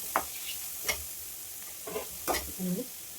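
Ghee sizzling in a pan while carrot palya cooks: a soft, steady frying hiss with a few sharp stirring clicks and scrapes, close by, and a brief voice murmuring near the end.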